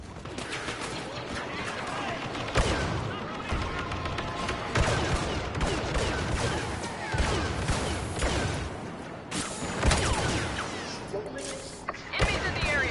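Targeting rifle fire in Star Wars Battlefront, sharp shots scattered through a dense mix of battle noise, blasts and clatter, loud and continuous with no voice over it.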